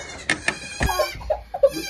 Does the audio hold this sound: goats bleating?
yes